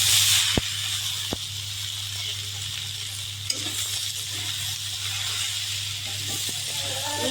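Chopped vegetables hit a pan of fried onion and green chilli and sizzle steadily and evenly, with a few sharp knocks of a utensil against the pan and no talking.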